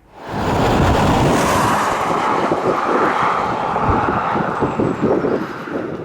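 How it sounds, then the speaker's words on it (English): A 2018 Audi Q5 Quattro on the move, giving a steady broadband rumble of road and wind noise that holds loud and even throughout, with no talk. "going for a drive in the 2018 Audi Q5"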